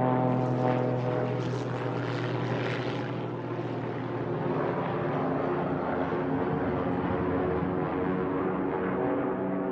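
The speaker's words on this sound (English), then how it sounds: "Then came mind-numbing dive bomb attacks by the Stukas." Stuka dive bomber engines during a dive attack produce a loud, continuous propeller drone that stays steady and dense throughout, with no voices over it.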